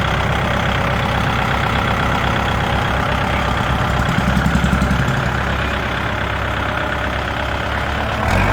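A blue Kubota L4708 tractor engine runs at a steady, loud, continuous drone throughout, close by, with no voices heard.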